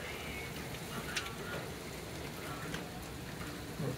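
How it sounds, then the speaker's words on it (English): Heavy rain pours steadily, a dense continuous hiss of drops drumming on surfaces, loud and close throughout. "it's freaking raining hard"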